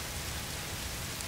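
Steady rain in Tomb Raider: Definitive Edition, a dense, even hiss of downpour that fills the whole moment with no talking.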